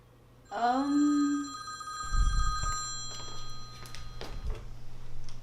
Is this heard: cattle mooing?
no